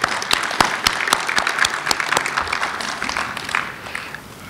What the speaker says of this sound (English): Let's all give applause to these gentlemen.